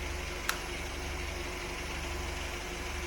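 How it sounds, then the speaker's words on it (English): A Royal Enfield Himalayan motorcycle with a dead battery, jump-started from a car battery, idles with a steady, even engine rumble throughout, after a brief sharp click near the start. "Now I'm going to start the engine."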